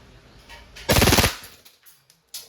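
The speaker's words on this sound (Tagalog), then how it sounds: "Yan yung full automatic. Rapid firing." A silver WE Hi-Capa T-Rex airsoft pistol firing on full automatic, one loud, rapid burst of shots lasting about half a second, then a few faint clicks and handling noises.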